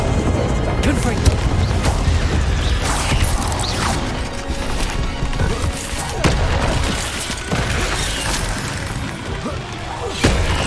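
Confringo spell blasts fire off during a fight in a spider den in Hogwarts Legacy, booming impacts amid a loud, dense layer of combat noise with sharp hits near 1, 6 and 10 seconds.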